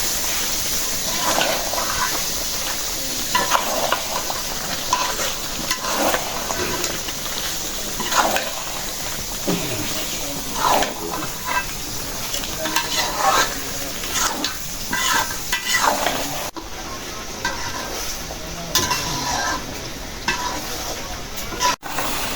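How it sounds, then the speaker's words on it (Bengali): Duck meat coated in ground spice paste with green chillies is stir-fried in a pan, a long stretch of loud scraping spatula strokes over a steady sizzle, with faint bits of background speech. "এখন ভালো করে কষান"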